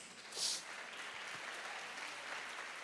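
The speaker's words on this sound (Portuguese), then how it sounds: "Aplauda o Senhor Jesus." Church congregation at a youth service clapping for the Lord, a steady wash of applause heard faintly at a distance, continuous for a few seconds.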